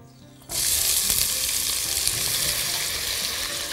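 Onion dropped into hot ghee for rice with potatoes, onion and meat: quiet at first, then a sudden loud burst of close hissing that settles into a steady, strong sizzle with occasional stirring, no speech.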